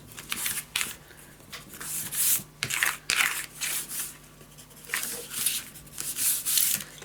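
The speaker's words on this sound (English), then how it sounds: "Erase your marks." A pencil eraser is rubbed back and forth over paper while building a craft album, coming in short scratchy bursts with brief pauses between them, close up with no voices.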